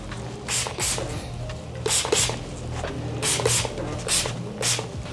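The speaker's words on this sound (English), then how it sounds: "I'm gonna add a little bit of sea salt spray." Sea salt spray is misted through hair during a burst fade haircut, several sharp hissing bursts in a quick series, close and crisp, separated by rustling handling sounds.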